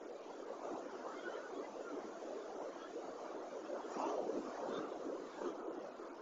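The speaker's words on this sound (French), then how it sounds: "Où l'on peut observer quelques vagues à la surface." Steady wash of small waves gently lapping on calm water, soft and continuous, with a low rumble of wind noise underneath and a slight swell in the middle.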